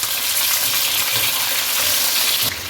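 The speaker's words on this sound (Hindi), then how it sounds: "जब प्याज इसमें ब्राउन हो तो इसमें हाफ़ kg चिकन वो शामिल कर दें और इसको इसके साथ भून लें।" Half a kilo of chicken frying with browned onions for chicken pulao, producing a loud, close, continuous sizzle with light stirring, no speech.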